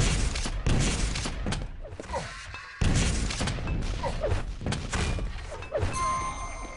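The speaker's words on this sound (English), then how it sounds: "takes a nade to the face" Grenade explosion in a competitive first-person shooter match, one of several loud thumps and crashes amid rapid gunfire bursts, close and heavy.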